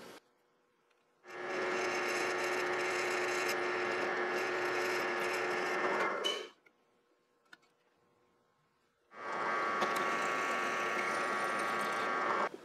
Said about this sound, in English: what I'll do is bring it over to the drill. I'll start with a really small drill bit and then go up to the number 3.